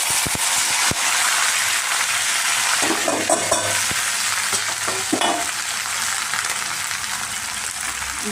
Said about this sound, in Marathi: तेल टाकते आणि अगोदर मी काय करते, जिरे मोहरीच टाकते फक्त